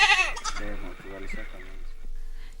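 Goats bleat repeatedly on a farm, several wavering calls close by in quick succession, with people talking over and between them.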